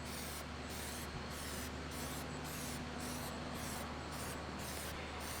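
Plasti Dip sprays from an aerosol can in a light coat onto a chrome bumper ring, a close, steady hiss broken by regular brief pauses as the can sweeps back and forth.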